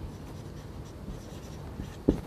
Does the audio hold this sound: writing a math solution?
yes